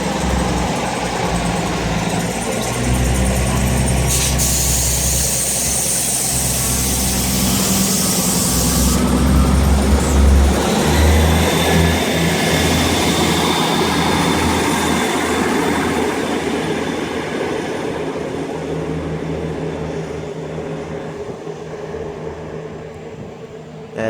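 Diesel train 158869 pulls away from Edinburgh Park station toward Dunblane, its engine rumbling loudly and steadily nearby with a rising mechanical drone and hiss that slowly eases as it departs.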